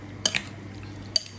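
A utensil clinks against a bowl while bigeye scad kinilaw, a raw fish ceviche, is mixed: two bright metallic taps a second apart, each with a small follow-up clink, over a quiet room hum.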